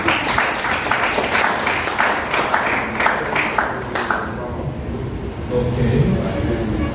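Audience at a crowdfunding business opportunity presentation clapping in a dense, loud burst that fades after a few seconds into a murmuring room.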